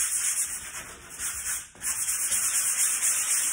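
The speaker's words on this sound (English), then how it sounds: "So I'm just gonna sand it lightly and I should get out all these imperfections off of it" Light hand sanding over dried drywall mud on a patched ding, a close, continuous scratchy rubbing with a brief dip partway through.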